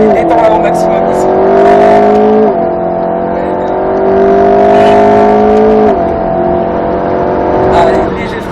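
An Alpine A110 S circles a race circuit, its engine droning loudly in long sustained pulls with brief gear-change dips as it accelerates and eases off; someone talks over it.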